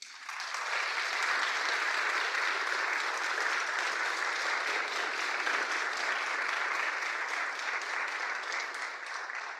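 An audience at a conference plenary presentation applauds after a talk, a dense, loud, sustained roar of clapping that fills the space and fades slightly toward the end.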